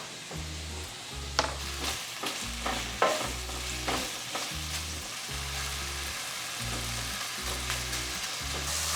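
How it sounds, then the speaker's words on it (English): Cut chicken sausage sautéing in oil, a constant close sizzle broken by repeated scraping stirs and a few sharp clinks of the utensil against the pan, with no one speaking. "I'm adding in the cut chicken sausage, and I'm gonna let that saute for just a couple of minutes before we add in any of the other ingredients."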